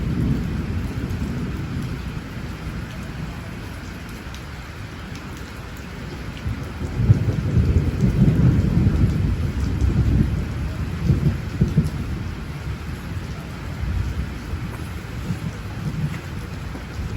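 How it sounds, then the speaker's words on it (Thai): Steady rain falling with deep rumbles of thunder swelling midway, fairly close, with no voices. "ตอนนี้ฝนเริ่มซาแล้วครับแต่ว่า เสียงฟ้าร้องยังดังอยู่"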